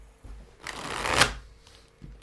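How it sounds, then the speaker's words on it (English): A deck of tarot cards shuffled by hand, one close riffling burst that builds to a crisp flutter and then fades, with no talk over it. "cards out, and I do the shuffle"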